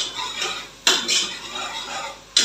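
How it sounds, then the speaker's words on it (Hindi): Dishes and cutlery being washed by hand in a home kitchen, with repeated clinks and scrapes of pots and utensils plus bursts of running water, close and fairly loud with no talk. "उतनी देर मैं साथ साथ बर्तन धो लेती हूँ।"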